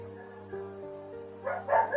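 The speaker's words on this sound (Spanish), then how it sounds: "no te puedo creer que los perros ladren ahora" Dogs bark in the Fran Bow game: a few short, loud yaps and barks burst out near the end over a steady low humming drone.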